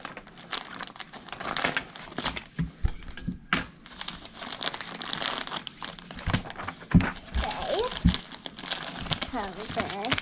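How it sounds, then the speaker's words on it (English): Plastic packages of crystal-growing supplies being cut and torn open with scissors, giving close, irregular crinkling and tearing bursts with snips, while a person talks over the handling. "we're back with our scissors. We're gonna start opening packages here."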